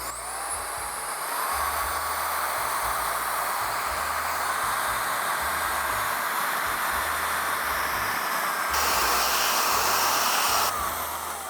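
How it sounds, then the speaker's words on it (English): An electric dust blower is run up through its power levels, a steady loud whooshing roar that steps up in intensity, holds at a higher level for a stretch near the end, then drops back, with no talk. "when you start it up on one, it's just a very nice, gentle dusting blow off, very controlled"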